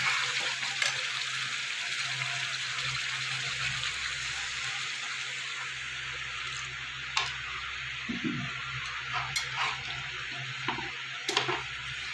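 Water pours in a steady hiss onto potatoes fried with spices in a pan, with occasional faint clicks and a soft bubbling underneath.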